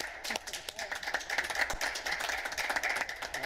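Clapping at a Zoning Board of Appeals meeting: a small group applauding with quick, uneven, crisp claps that continue steadily for several seconds, close and clear in the room.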